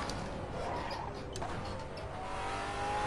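A race car engine in a PS4 racing game drones steadily for the whole stretch, loud and continuous, with faint tyre and track noise layered underneath and no talking.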